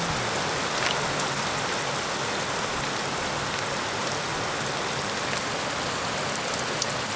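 Steady rain pours at Havasu Landing Resort and Casino, California, a loud, dense, continuous hiss of drops falling on surfaces with no voices over it.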